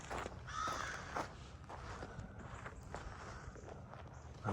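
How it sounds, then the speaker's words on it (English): Large crows calling close by along a wooded rail trail, a few harsh caws near the start and middle over steady footsteps on the path. "There's some big old crows flying around pretty close to me too."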